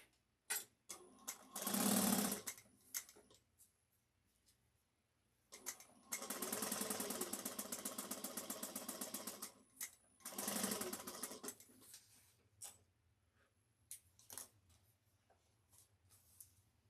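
A sewing machine bastes the seam of a fabric shoulder bag, running in several short bursts of rapid, even stitching separated by quiet pauses and small handling clicks, close and clear.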